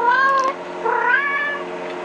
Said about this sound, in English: That meowing you just heard was Piper meowing.